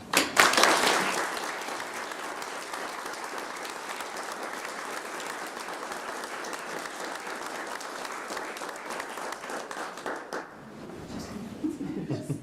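At a school board awards-of-excellence meeting, a room of people applauds steadily for about ten seconds, starting with a loud burst and then holding an even clatter of hands. Near the end it drops away and a voice begins.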